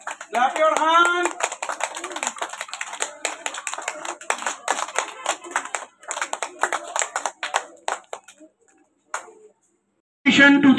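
Class 1 pupils clap their hands for the top-ranked classmates, a quick, ragged burst of claps alongside voices that gradually thins to scattered claps, then a short pause before a voice returns.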